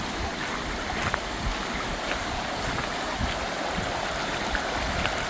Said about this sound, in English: So all these streams come off the main top